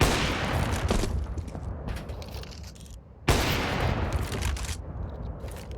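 A Counter-Strike gunfire spray on the Vertigo map during an esports match, a dense, loud, sustained burst of rapid shots that breaks off briefly and then resumes with another continuous spray.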